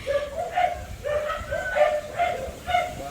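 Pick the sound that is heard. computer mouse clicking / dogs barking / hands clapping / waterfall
dogs barking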